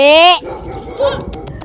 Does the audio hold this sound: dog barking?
yes